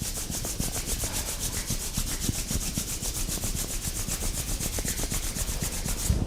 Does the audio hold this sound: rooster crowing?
no